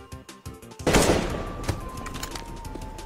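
Sustained automatic AK rifle fire in a multiplayer shooter game, dense rapid bursts that start abruptly after a few scattered shots and continue loud and continuous, with faint game effects underneath.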